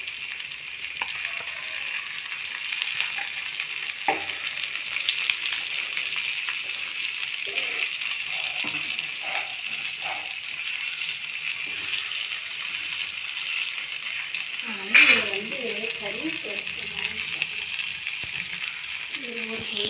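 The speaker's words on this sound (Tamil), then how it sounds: "இது வந்து நல்லா ஃப்ரை பண்ண போகிறேன் ஃபிஷ் ஃப்ரை பண்ண போகிறேன்" Paarai fish frying in a pan gives a steady, close sizzle throughout, with a brief louder burst near the end and faint voices underneath.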